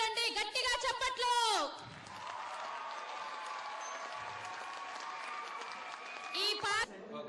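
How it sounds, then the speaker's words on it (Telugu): Audience applause at a Telugu cultural association's Ugadi celebration, a sustained wash of clapping in the middle, with someone speaking just before and after it. "గట్టిగా చప్పట్లు"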